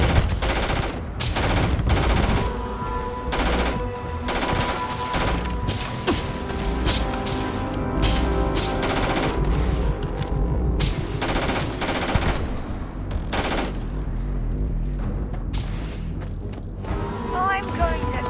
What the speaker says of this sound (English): He's really bad at shooting.